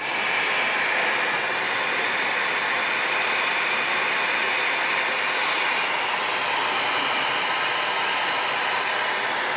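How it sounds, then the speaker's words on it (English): A hairdryer runs on an ENGYPAK 500W portable power station at its low blower setting, a steady, loud broadband whoosh that holds evenly for the whole stretch with no talking. "You're not going to hear me talk because the hairdryer will be too noisy."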